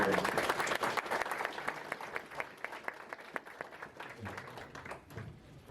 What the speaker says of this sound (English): So let's give a round of applause to our coordinating team.